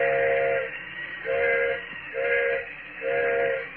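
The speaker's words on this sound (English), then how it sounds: "Engineer's whistling for a flagman." A steam train engineer's whistle signals for a flagman in four repeated long blasts, loud and close, evenly spaced with brief gaps, over a low rumbling background on a stopped train in an old-time radio drama.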